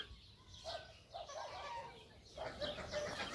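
Pet chickens cluck in short, uneven bursts, a few soft rising and falling calls close by at a low level with brief quiet gaps between them.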